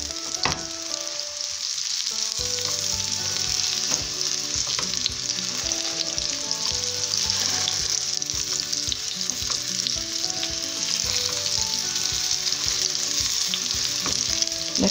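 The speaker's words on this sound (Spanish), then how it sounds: "vamos presionando para que se nos vaya cocinando nuestra milanesa" Breaded homemade chicken milanesa fries in oil over medium heat in a pan, giving a loud, continuous sizzle with occasional crackles, close by and with no talking.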